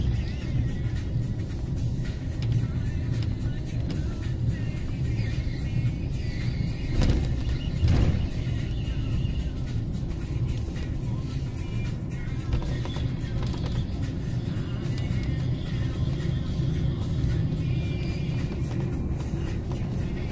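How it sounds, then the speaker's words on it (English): A big bus rolling down mountain roads, heard as a steady, moderately quiet engine and road rumble throughout, with a brief thump partway through and no talking. "Pretty fun driving a big bus down these mountains."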